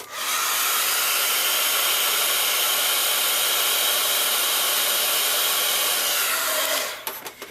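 A hair dryer blows steadily and loud on a watercolor crayon painting, a constant airy roar that runs almost the whole time before cutting off near the end.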